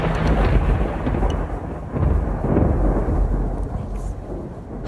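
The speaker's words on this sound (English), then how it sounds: "Then a powerful storm came." Thunderstorm effect in a stage performance of Edward Tulane: a loud, continuous low rumble with rolling swells and rain-like hiss, steady for the whole stretch with no talk.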